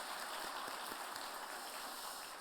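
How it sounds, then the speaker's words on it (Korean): A church congregation claps for the choir during a Sunday worship service, producing a steady, fairly faint wash of many hands applauding evenly throughout, with no voices standing out. "이번에는 찬양대를 위해서 박수 한번 해 주십시다."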